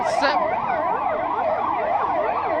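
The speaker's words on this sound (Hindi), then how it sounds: "ये एम्बुलेंस है जिसमें घायलों को इलाज के लिए ले जाया जा रहा है" An ambulance siren wails loudly and continuously in a fast rising-and-falling pattern during an emergency mock drill in Delhi, carrying injured people to the nearest hospital, close and dominant throughout.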